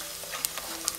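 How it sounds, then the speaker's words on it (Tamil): Garlic frying in oil in a pan while tomato thokku is being prepared, with a steady close sizzle and light scraping from stirring, plus a couple of sharper clinks of the utensil against the pan. "எல்லாத்தையும் கிளறி விட்டுக்கோங்க. பூண்டு பாருங்கள், நமக்கு நல்லா எண்ணெயிலே வணங்கணும்."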